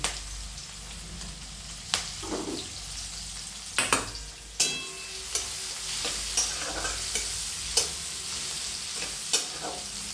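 Onion, curry leaves and green chili hit hot oil in a pan for poha, a soft steady sizzle broken by sharp clinks and scrapes of a spoon stirring against the vessel.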